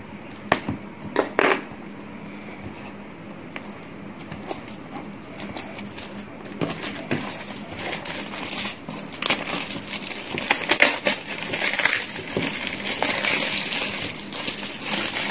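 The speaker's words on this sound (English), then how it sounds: "So I need to get rid of this plastic covering from the box." Plastic wrapping being peeled and torn off a boxed Hogan Wings Singapore Airlines A380 model, close crinkling and crackling with sharp snaps and rustles that grow denser toward the end.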